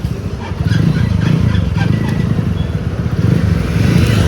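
A modified motorcycle engine, a Yamaha FZ or TVS Apache, runs at a close, loud, lumpy idle with a steady throbbing rumble throughout.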